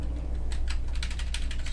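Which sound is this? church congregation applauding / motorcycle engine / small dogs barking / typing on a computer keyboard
typing on a computer keyboard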